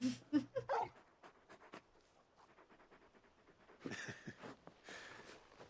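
A large dog in the video game Final Fantasy XVI pants and whimpers in short, breathy bursts up close, followed by quieter rustling and a couple of louder puffs.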